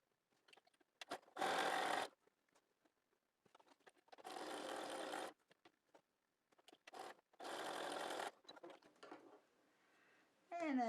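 A home sewing machine stitches quarter-inch seams on quilt blocks in three close, steady runs of a couple of seconds each, separated by quiet pauses with soft handling clicks of fabric.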